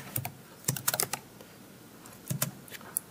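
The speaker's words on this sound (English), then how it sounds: "Let's type in." Fast typing on a computer keyboard, two quick bursts of sharp key clicks split by a brief pause, close and fairly quiet with no talking.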